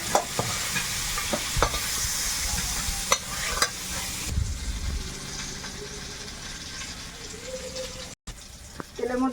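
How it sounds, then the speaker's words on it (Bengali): Prawns, seasoned with salt and turmeric, fry in a pan with a steady close sizzle and occasional stirring scrapes, and a voice speaks briefly over it. "চিংড়িটা ভেজে উঠিয়ে নিচ্ছে"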